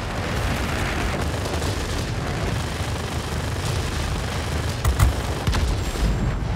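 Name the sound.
aircraft cannon firing in World of Warplanes video game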